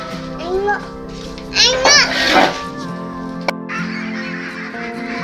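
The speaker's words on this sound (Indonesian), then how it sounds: "bebek packing usia 44 hari, 44 atau 45 hari" Meat ducks about 44 days old calling loudly in a burst of honking quacks, several overlapping at close range, with a steady farmyard hum underneath.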